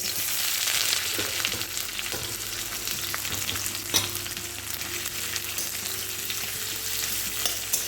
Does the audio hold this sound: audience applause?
no